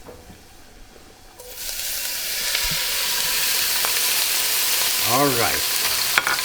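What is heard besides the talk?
canned clams sizzling in a pan with garlic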